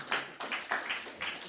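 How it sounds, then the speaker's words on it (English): Hand clapping from a conference audience at a medtech hackathon panel, heard as a short burst of several claps in an uneven rhythm, moderately distant and fairly faint. "Let's give them a round of applause."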